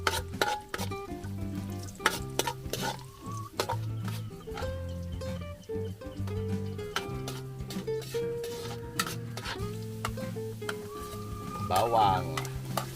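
Ginger sizzles in oil in a pan at an outdoor farm kitchen, with scraping stirs and clanks of cookware. Chickens cluck nearby throughout.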